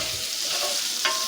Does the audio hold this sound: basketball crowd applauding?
no